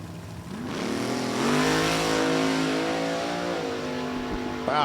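A top dragster engine revs hard on a drag strip run, a loud rising roar that climbs in pitch and then eases as the throttle lifts, heard from the track side.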